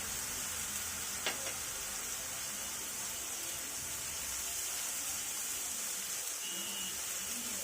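Onion paste with ginger and garlic paste fries in a pan, a low, steady hiss with occasional faint stirring clicks.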